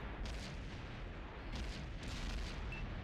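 A tank's ammo rack explodes in a multiplayer tank video game, heard as a few dull, muffled booms and bursts over a steady rumbling background of distant combat.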